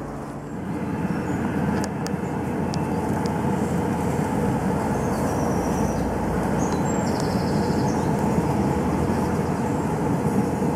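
A battery-powered home-made bee vacuum, a swarm vac, runs steadily and loudly close by, a continuous broadband motor whoosh with no pauses.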